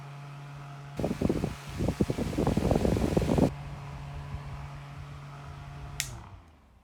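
An electric fan set to oscillate hums steadily with a low drone, while a burst of irregular buffeting wind noise hits the microphone for a few seconds before the even hum resumes, followed by a click and the fan winding down.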